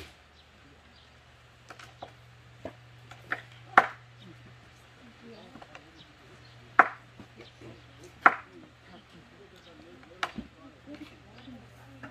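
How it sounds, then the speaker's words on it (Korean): Soaked dried pumpkin is cut into pieces with a knife on a board, making scattered sharp chops, a few louder than the rest, over a quiet room hum. "이 호박도 적당히 불렸을 때 한 요 정도 크기로 잘라주시면 되세요"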